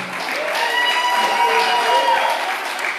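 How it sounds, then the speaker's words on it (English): An audience claps and cheers at a live show, a dense sustained burst of applause with crowd voices mixed in, steady and fairly loud throughout. "Let's give him a big round of applause."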